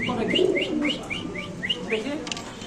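Soft cooing of a domestic Mundian pigeon runs under a string of short, bright chirps repeating every fraction of a second, close by.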